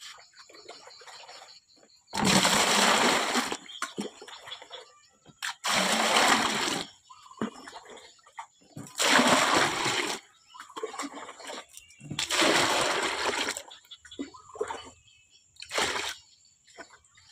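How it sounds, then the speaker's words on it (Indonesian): Water gushes in repeated loud bursts into containers for mixing liquid fertilizer, separated by quiet pauses and faint trickles, with no one talking. "sekarang saya mulai, saya isi air"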